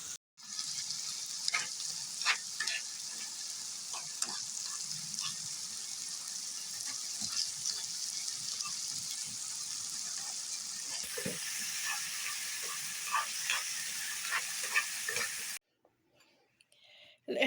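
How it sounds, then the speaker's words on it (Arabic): Potatoes fry in oil with spices, a faint, steady sizzling hiss lasting most of the stretch before it cuts off near the end. "البطاطا شحرتها في الزيت ومليحه والبزار"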